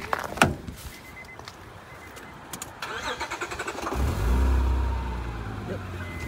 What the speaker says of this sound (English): and we'll turn the car on and see if it made a difference.